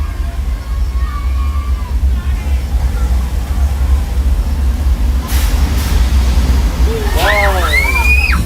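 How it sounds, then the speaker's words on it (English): Flash flood special effect on the Universal Studios Hollywood studio tour: a loud, constant roar of gushing water that fills the whole stretch, with a voice calling out briefly over it near the end. "Folks, that's a flash flood."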